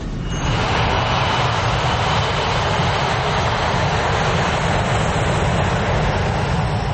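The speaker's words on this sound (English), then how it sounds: "At 1:25, Flight 243 is ready for takeoff." Airliner engines roaring at takeoff on Flight 243, a loud broadband rush heard from inside the cabin, rising at the start and then holding steady and dense throughout.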